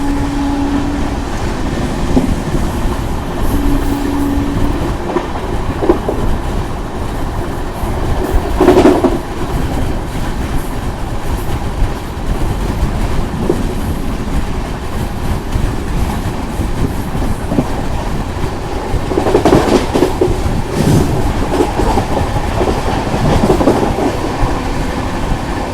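Rajdhani Express train running at 130 km/h, a steady loud rumble of rolling coaches with rhythmic clickety-clack from the wheels and brief sharper bursts, heard continuously from on board.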